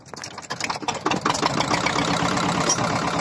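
A ferry boat engine on a river crossing starts up and settles into a steady, close, mid-pitched chugging run with a rapid knocking rhythm.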